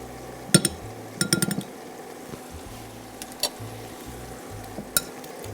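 Four eggs are beaten with a fork in a bowl, giving scattered quick bursts of clinking taps against the bowl, close and fairly light, with quiet pauses between strokes.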